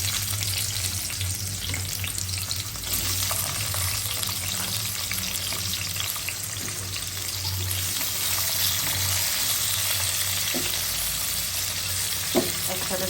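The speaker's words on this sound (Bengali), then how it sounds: "এখানে আলুটা আমি হালকা তেলে লবণ আর হলুদ দিয়ে ভাজবো।" Potatoes fry in a little oil with salt and turmeric, giving a steady, moderately loud sizzle with a low constant hum beneath and a couple of faint clicks near the end.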